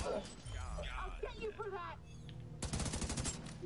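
Rapid bursts of gunfire from The Division 2 hardcore beta break out loud and dense after several seconds of players talking, with voices continuing over the shooting.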